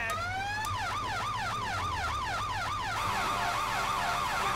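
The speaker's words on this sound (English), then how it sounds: "You can hear the sirens." Wailing firefighter emergency sirens in GTA 5 rise and fall in a steady repeating cycle, loud and close, then shift to a faster, flatter yelp near the end, with engine rumble underneath.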